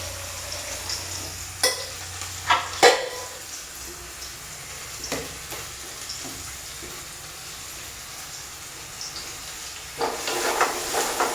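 Onions browning in a pan for a stir-fried greens dish, a soft steady sizzle and hiss with a few sharp utensil clicks and a louder stretch of frying near the end.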